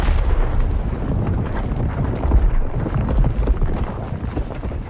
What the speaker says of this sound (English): He gets an explosion too.